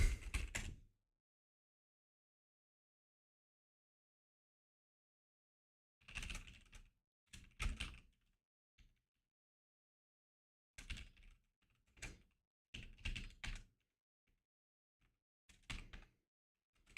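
Computer keyboard typing in scattered bursts of quick clicking keystrokes, separated by long silent pauses, fairly close and soft.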